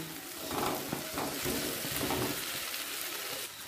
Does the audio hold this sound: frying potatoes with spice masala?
yes